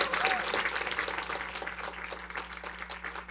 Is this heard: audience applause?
yes